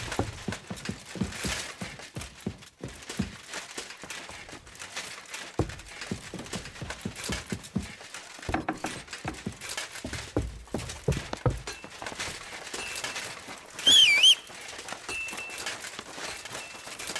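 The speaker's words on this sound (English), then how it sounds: "Expensive horse." A horse's hooves clip-clop at a steady walking pace in the medieval role-playing game Kingdom Come: Deliverance II, moderately close with light ambient game sound behind.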